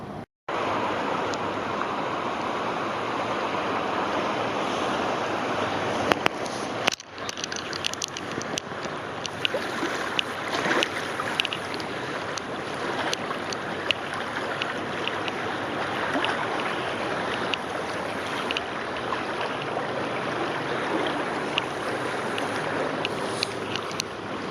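River water on the Watauga River rushing and splashing steadily around a kayak, a dense continuous wash close by with occasional small knocks and splashes, no talking.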